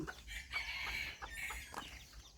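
Bantam chickens clucking in pens at a farm, a run of short close clucks and calls over a quiet background, with no talking.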